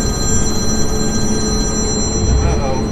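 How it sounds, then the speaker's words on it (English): A phone rings with steady electronic tones during a forestry job clearing an old tract with a Tigercat 234 processing pine, heard over rumbling machinery and background noise. "Phone's ringing."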